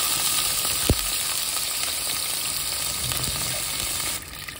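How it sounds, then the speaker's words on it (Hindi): Cumin seeds and green chillies frying in oil, a bright continuous sizzle close by with one sharp knock early on, ending in a slightly quieter hiss. "हरी मिर्च को भी इसमें फ्राई करेंगे 2 मिनट तक"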